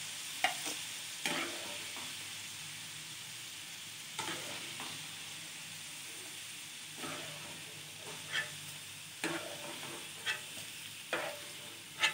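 Garlic fries in oil for garlic pickle, with a soft continuous sizzle broken by repeated scraping stirs at irregular intervals, fairly quiet and close.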